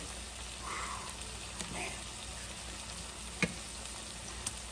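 A red pepper sauce with croaker fish simmers and is stirred, giving a soft, low bubbling sizzle with a couple of faint utensil taps; a brief word is spoken once.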